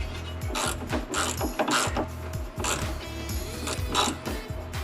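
A ratchet wrench tightens a bolt during an OEM-parts lift install on a Jeep Wrangler JL, giving repeated close, clicking pawl strokes in uneven bursts with the clank of metal parts.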